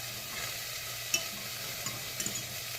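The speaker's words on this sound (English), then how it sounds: "I just wanted to give these cabbages like a quick stir in here, mixed in with my red bell peppers and my onions" Cabbage is stirred in a pan with red bell peppers and onions under a gentle, steady sizzle. A few light scrapes of the spoon sound close, and there is no talking.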